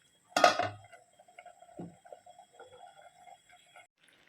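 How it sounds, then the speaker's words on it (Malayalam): A single sharp metallic clink of a lid set on a pot of pumpkin curry brought to the boil, followed by faint small clicks and a light tap in a quiet room. "ഒന്ന് മൂടി വെച്ചു കൊടുക്കാം തിളച്ച് വരട്ടെ"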